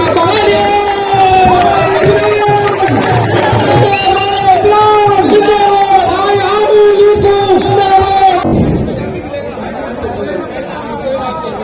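A large crowd cheers and chatters loudly at an election rally in Ballimaran, a dense roar with tonal whoops and chanting running steadily before dropping to a softer murmur near the end.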